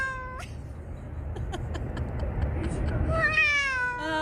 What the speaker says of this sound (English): but that sounds like my cat